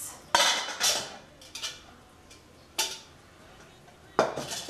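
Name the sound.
large cooking pot being handled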